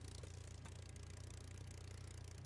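A Spitfire's Merlin engine in Microsoft Flight Simulator runs as a steady, deep droning rumble with a fast even pulse, constant and moderately close throughout.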